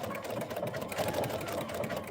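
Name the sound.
sewing machine running with side cutter foot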